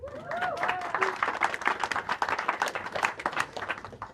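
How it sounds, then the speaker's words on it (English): Wedding guests break into a round of applause, dense overlapping claps filling the room with a few voices and cheers mixed in, steady and fairly loud throughout. "So give yourself a round of applause."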